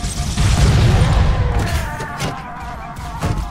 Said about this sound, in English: Listen to that bassy launch and that explosion.